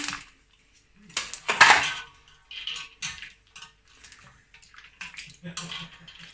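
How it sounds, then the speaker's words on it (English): Ice pieces dropped into a bowl of cold water holding whole wheat udon noodles, giving a few clattering splashes and knocks close by, with quieter handling sounds afterward. "The water wasn't that cold, so I'm gonna add a few pieces of ice in here."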